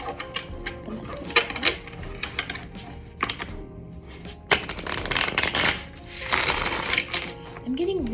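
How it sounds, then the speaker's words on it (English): Tarot cards shuffled and pulled from the deck make close, dense riffling and flicking bursts, interspersed with sharper card snaps, while a voice talks intermittently over them. "So let's pull some cards and see"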